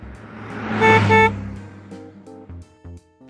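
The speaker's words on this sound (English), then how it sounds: "What sound does a car make?" A car horn gives a loud double honk, then a few quieter tonal beeps follow in a short irregular pattern.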